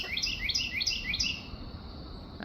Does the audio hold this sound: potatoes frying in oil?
no